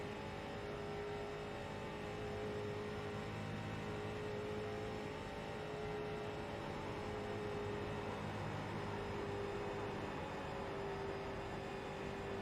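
A race car engine in the iRacing sim, a steady high-pitched drone held at near-constant revs for the whole stretch, fairly quiet, no talk.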